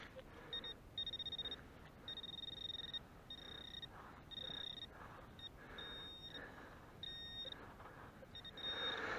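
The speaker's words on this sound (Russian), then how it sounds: "Неплохой сигнальчик, фольга. Цветной металл." A metal detector sends out a series of clear, high electronic beeps in short repeated bursts over a buried foil target while searching at the Blue Lakes. A steady low hiss of wind and outdoor noise sits underneath.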